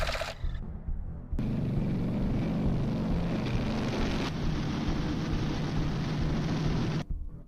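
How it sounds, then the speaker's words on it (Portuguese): A B-29 bomber roars overhead in a long, loud, steady drone, a heavy piston-engine rumble that swells in abruptly and holds for several seconds before cutting away. "Vi um B-29 voando"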